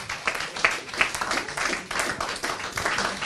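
A youth team's presentation audience applauds the arriving captain, moderate clapping from a small crowd, uneven and close.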